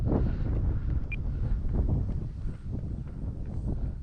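Strong wind buffets the microphone outdoors during a flight of a radio-controlled warbird model, a loud, continuous low rumble with gusts that rise and fall and no clear talk.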